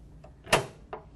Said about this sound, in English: You need to lift up and pull out on the door in order to open it.